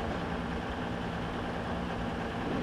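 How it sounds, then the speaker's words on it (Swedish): A Class 221 Super Voyager diesel train idles in a train simulator game, giving a steady low humming drone with no rise in revs throughout. "Hör du motorn liksom är idle?"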